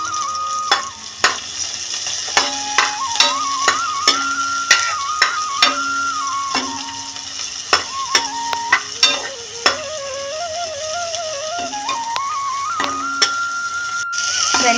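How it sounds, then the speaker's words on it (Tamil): Chopped onions dropped into hot coconut oil in a frying pan, sizzling steadily with repeated stirring clicks and scrapes from a utensil, close and fairly loud throughout with no talking. "வெளிச்செண்ணெய் நல்லா காஞ்ச பிறகு இப்போ நம்ம கட் பண்ணி வச்ச வெங்காயம், தக்காளியை சேர்க்க போகிறோம்."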